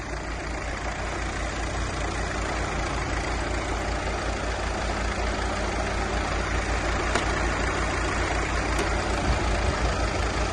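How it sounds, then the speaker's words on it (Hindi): A car engine idles steadily after being started, a low, even rumble that holds throughout with no pauses or revving. "अब के ये गाड़ी स्टार्ट हो गई है"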